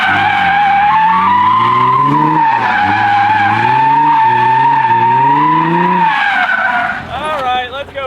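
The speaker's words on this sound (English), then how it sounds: "I'm gonna do one handbrake entrance" Drift car tires squeal loudly in a sustained, wavering skid during a handbrake entrance, engine roaring underneath, the screech tapering and breaking up near the end.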